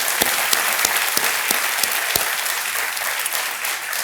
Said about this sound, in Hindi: एक बार फिर हम करते हैं तालियों के साथ